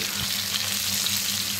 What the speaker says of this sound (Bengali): বাদামি করে ভেজে নেব।